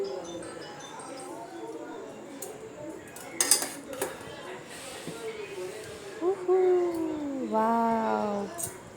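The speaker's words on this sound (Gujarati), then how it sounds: "હવે બધા નૂડલ્સ એડ કરીને મિક્સ કરી નાખીશું આપણે" Noodles are tossed with masala and black salt powder in a pan, with metal utensils clinking and scraping in short bursts while voices and a tonal whine carry on nearby.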